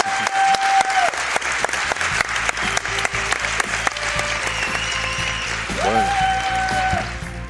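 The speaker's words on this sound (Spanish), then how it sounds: "Un aplauso para ellos." Sustained applause from a sizeable audience at the close of a live mentalism stage show, dense and steady clapping with a brief tonal whistle near the start and end.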